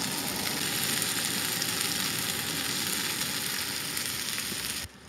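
Leftover chili and soup heating in a pan on a camping stove in an off-grid vehicle, giving a steady, loud, continuous sizzle that cuts off abruptly at the end.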